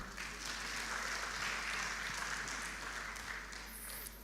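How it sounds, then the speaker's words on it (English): Conference audience applause at a national communications conference, a steady dense wash of clapping filling a hall at even loudness throughout, with no voices over it. "And another big round of applause for all ourselves."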